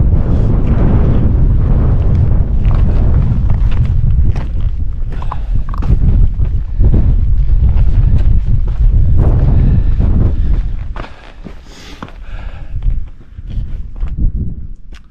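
Strong gusting wind buffets a solo lakeside camp at Coniston, roaring loudly against the microphone with creaks and flapping, easing into softer, intermittent gusts toward the end.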